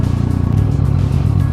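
A Yamaha MT-09 (FZ-09) motorcycle engine runs close by with a loud, deep, throbbing rumble that holds steady across the short stretch.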